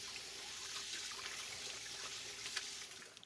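Tap water runs steadily into a sink for hand washing after making tortillas, a continuous hissing trickle with small splashy bursts, close by and alone.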